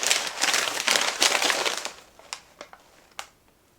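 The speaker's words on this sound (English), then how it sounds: "they wrap these candles up nicely. I always hate to unwrap them" Plastic wrapping on a candle crinkles and crackles loudly for about two seconds as it is torn off, followed by a few sparse, softer rustles and crackles.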